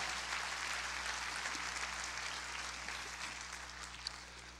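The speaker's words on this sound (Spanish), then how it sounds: "Dale un aplauso bien fuerte al rey, por favor." Applause for the king at an evangelical church service led by a pastor, a dense, steady wash of clapping from the congregation that fades slowly toward the end.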